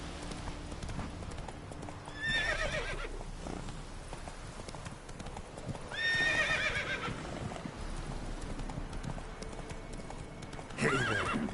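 A horse in The Witcher 3 clip-clops steadily and neighs three times, each whinny loud and close, over a quiet background.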